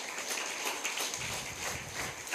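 A church congregation claps together in a dense, steady patter of many hands that lasts the whole moment, with no voices over it.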